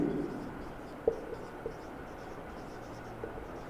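A pen scratches softly across paper while a geometry solution on triangles and corresponding angles is written out, a faint continuous scratching with a couple of small taps, no speech.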